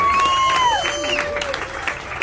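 Hands clap together in a crowd at a lively gathering, a steady wash of applause lasting about two seconds with a whistle-like tone sliding down through it.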